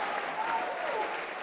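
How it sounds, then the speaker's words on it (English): Steady audience applause filling a hall at the CPAC 2026 conference in Grapevine, a dense continuous wash of clapping with no voices above it. "Seriously, we applaud you."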